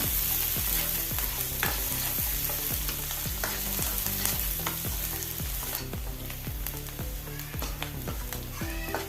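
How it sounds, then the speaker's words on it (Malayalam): Finely chopped onion stirred and frying in a pan for dal palak curry, with a steady close sizzle and regular scraping strokes of a spatula against the pan, loud and continuous with no talking. "ഒരു വലിയ സവോള ചെറുതായി അരിഞ്ഞ് കെട്ടി കൊടുക്കാം നല്ലപോലെ ഒന്ന് മിക്സ് ചെയ്യുക"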